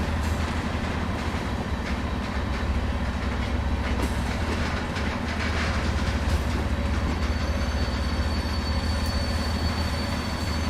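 A locomotive shunts log wagons in the railway simulator Train Sim World 2, giving a continuous loud rail rumble with squealing wheels and faint clickety-clack, steady and close throughout with no talk.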